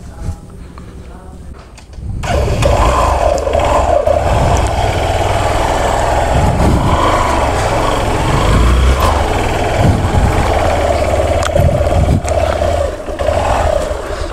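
A Hero Xpulse off-road motorcycle engine on a ride through Vagamon, Kerala, kicks in after a quiet couple of seconds and then runs loud and continuous, with a rough, throbbing drone close to the microphone.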